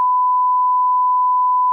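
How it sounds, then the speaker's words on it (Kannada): A steady, pure electronic censor beep holds one unbroken pitch for nearly two seconds, fairly loud and alone, covering speech that has been muted out. "ಮ್ಯೂಟ್ ಮಾಡ್ತೀನಿ ಗಾಯ್ಸ್, ಬೀಪ್."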